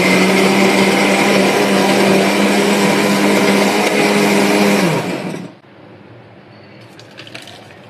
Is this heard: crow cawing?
no